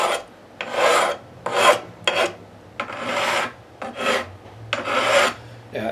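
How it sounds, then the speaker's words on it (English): A file rasping along the frets of an American Stratocaster guitar neck during a full fret treatment, seven or eight quick gliding strokes with little resistance, close and alone. "You can hear that file just sort of gliss along those frets"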